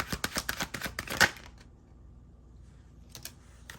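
A rapid run of crisp tarot-card-shuffling riffles, then a near-silent pause and a couple of soft flicks at the end.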